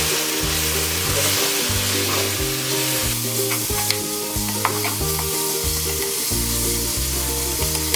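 Onions fry loudly with cumin and coriander, making a dense, continuous sizzle close by, with rhythmic scraping as they are stirred throughout and no voices.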